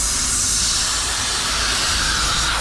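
Compressed nitrogen venting from the refrigerant system of an AAON 18-ton rooftop HVAC unit, a loud, steady broadband hiss that holds at full strength without a break.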